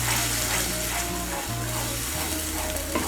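Spice paste of cumin, coriander and Kashmiri chili frying in a pan, a steady close sizzle with faint stirring scrapes, no voices.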